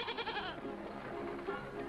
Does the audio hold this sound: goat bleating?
yes